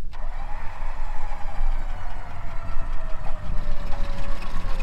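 A car's engine rumbles steadily at mid pitch while it is given a little gas during a tow, a rising whine drifting across the low drone, close and continuous with no voices.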